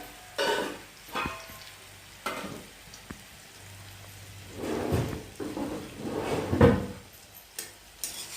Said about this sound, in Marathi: छान आपण तळून घेऊ. हळद पण टाकली, मीठ पण टाकलं.